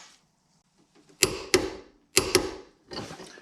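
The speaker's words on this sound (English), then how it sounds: "next we need to torque these to 150 foot-pounds" A torque wrench tightens front coilover bolts on a third-generation suspension during a QA1 coilover install, giving two pairs of sharp metallic clicks, close and fairly loud, with quiet gaps between.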